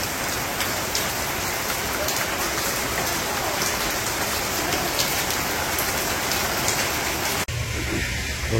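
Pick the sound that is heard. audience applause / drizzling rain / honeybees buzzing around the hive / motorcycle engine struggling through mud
drizzling rain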